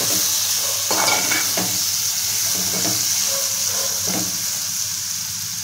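Chilli curry with turmeric is stirred in a frying pan: a few scraping spoon strokes over a steady sizzling hiss of hot oil.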